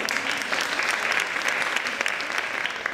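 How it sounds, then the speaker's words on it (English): An audience at a conversation event applauds a new musical, with brisk, continuous clapping at a steady level for a few seconds and no talking over it. "applause for a first new musical"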